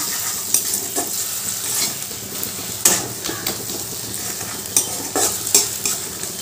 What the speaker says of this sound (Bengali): এবার ভালো করে এটা মিশিয়ে নেব।